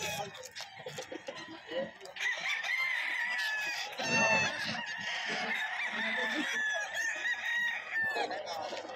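Gold bull stag gamefowl rooster crowing repeatedly amid a busy pet market, with other fowl clucking and people talking around it.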